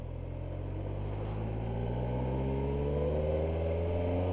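A Kawasaki Versys 1000 SE motorcycle lugs along in fifth gear at just 25 km/h, its engine a steady, low, even drone that rises very slightly in pitch, heard close and continuous with no talking.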